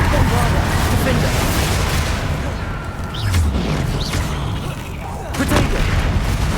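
Confringo and Bombarda spells exploding during a troll fight in Hogwarts Legacy, with heavy booms and a thick wall of rumbling battle noise throughout, loud and close.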